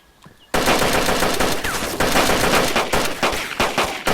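Rapid automatic gunfire in the video game DayZ during a battle for Svetlo, loud and close, with bursts of shots and a few louder cracks continuing throughout.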